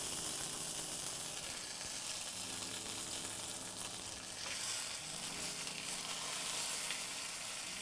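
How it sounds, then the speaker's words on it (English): Prime rib sears in a hot pan, giving a continuous, dense, loud sizzle and crackling hiss that holds steady throughout, with faint clattering of a utensil underneath. "we literally want to sear every single side of this, except obviously the bone side"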